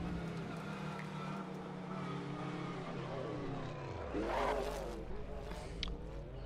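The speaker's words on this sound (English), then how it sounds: "I missed the V8 noise, so I'm going in the Mustang again." A Ford Mustang V8 in the racing game Assetto Corsa drones steadily at night on the Nordschleife, then drops in pitch as it shifts and revs back up, a throaty engine note holding throughout.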